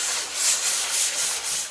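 Wood panel hand-sanded with 800 to 1000 grit sandpaper, close rhythmic swishing strokes about every quarter second, steady and alone.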